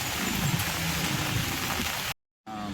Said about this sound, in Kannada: ಬೆಂಗಳೂರಲ್ಲಿ ಧಾರಾಕಾರ ಮಳೆ.